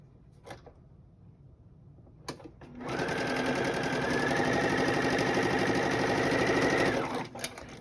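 A sewing machine stitching quilt charm square pieces together: after a few light clicks it starts up into a steady, close whirring hum with a rapid needle rhythm for about four seconds, then stops.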